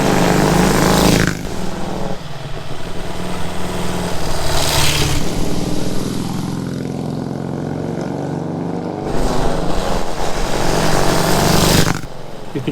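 1927 Douglas works race motorcycle riding around a track, a loud engine roar that swells as it passes close by, fades, then surges past again.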